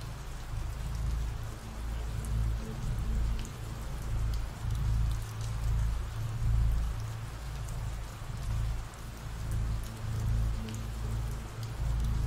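Steady rain falls on surfaces in a continuous, even patter with a soft low rumble underneath, a calm ambient downpour with no voices.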